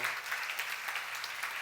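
A church congregation clapping during a sermon, a moderate, fairly even patter of many hands with slight swells, heard alone.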